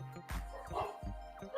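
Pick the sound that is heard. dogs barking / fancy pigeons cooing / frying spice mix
dogs barking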